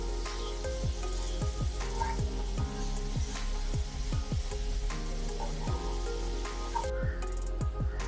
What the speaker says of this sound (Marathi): फुल गॅस वरती टोमॅटो छान परतून घ्यायचा आहे